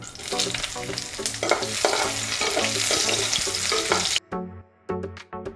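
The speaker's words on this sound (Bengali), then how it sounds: "এবার ভেজে নেব আমি উচ্ছেগুলোকে।" Bitter gourd slices fry in oil in a wok with a loud, dense sizzle and repeated stirring scrapes, close up, dropping out briefly before resuming in short bursts.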